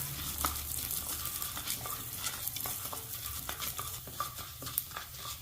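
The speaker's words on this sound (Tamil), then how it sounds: "இப்போ அடுத்து உளுந்து வறுக்க போகிறோம்." Urad dal roasting dry in a pan while being stirred, a close, light sizzle broken by scraping and rattling taps of the spoon against the pan at an irregular rhythm, with no talk.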